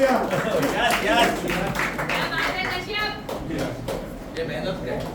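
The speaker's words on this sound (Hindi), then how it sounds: "जोरदार तालियां।" Audience clapping at a society Independence Day (15 August) function, a steady spread of applause running through the whole stretch with voices and cheers mixed in.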